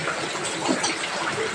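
Heavy rain pours over a flooded road, a dense, steady rushing and gushing of water that fills the scene evenly from start to finish, with no voices.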